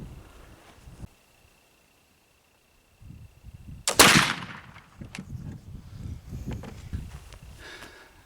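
A black powder flintlock pistol fired with a dirty lock and 4F priming powder, a single sharp, loud report after a quiet pause, followed by a short rushing tail and nearby handling noises.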